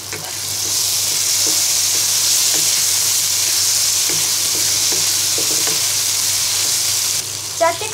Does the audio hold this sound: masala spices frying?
yes